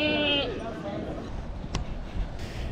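A goat bleats once near the start on a mountain path in the Portes du Soleil, a clear wavering cry over a steady outdoor background, followed by faint knocks and rustling.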